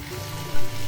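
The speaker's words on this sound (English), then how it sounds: "Cook all together till a mashed potato with a wonderful aroma is ready" Potato masala dosa filling cooks in a pan, a brief close sizzle and crackle with a sudden louder burst partway through.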